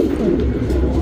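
A male Lal Buri Geerva pigeon gives a low, rolling coo, close and loud in one brief continuous phrase.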